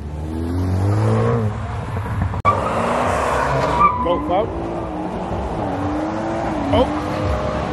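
A BMW M140i skidding at a car meet, tires squealing and engine revving in long wavering bursts, loud and close, with voices talking over it.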